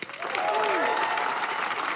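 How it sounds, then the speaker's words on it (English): An audience at a live innovation challenge finale in Helsinki applauds a presenter, dense sustained clapping from a crowd, loud and steady, with a voice briefly heard over it. "One more big applause"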